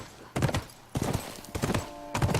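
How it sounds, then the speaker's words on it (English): Horse hooves clip-clop in The Last of Us video game while riding, four short bursts of rhythmic, fairly close hoofbeats with brief gaps between them. "while we're riding on a horse"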